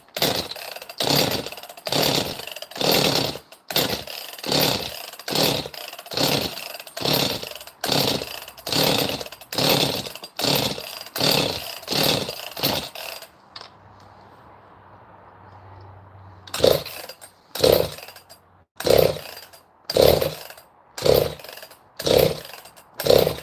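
A chainsaw that had sat unused for a long time roars in a fast pulsing rhythm of repeated throttle revs, drops to a low idle for a few seconds, then revs again, loud and close.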